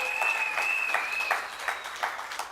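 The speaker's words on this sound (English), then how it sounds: "Give him a round of applause." Audience applause at a political party rally, a dense continuous clapping from a crowd that stays steady and fairly loud throughout, with a faint tonal whine running beneath it.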